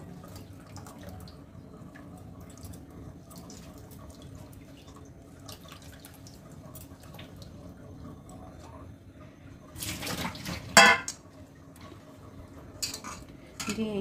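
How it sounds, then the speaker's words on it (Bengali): Cold water is poured over vinegar-curdled chhena in a home kitchen, a short splashing burst rising out of quiet room tone with faint clinks of utensils. "হালকা ঠান্ডা জল ঢেলে দেব, যাতে ভিনেগারের টক ভাবটা চলে যায়।"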